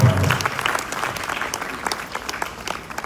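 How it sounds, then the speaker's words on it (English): An audience at a convention in Dallas claps in a dense, loud burst that gradually thins out over about three seconds. "Let's give them a round of applause."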